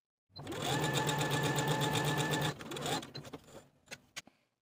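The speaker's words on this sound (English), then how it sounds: "sew basting stitches for the front skirt piece only, just as we did for the bottom of the front bodice" A sewing machine runs a long line of basting stitches on dress fabric, a fast steady mechanical whir for about two seconds, then a shorter burst and a few scattered clicks as it stops, close and alone.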